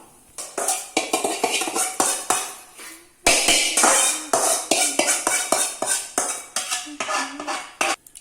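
Metal spatula scraping and clattering in a pan as sesame seeds are dry-roasted for a Tamil mundhiri kothu sweet, a steady run of sharp, close strikes and scrapes, loud and without talk.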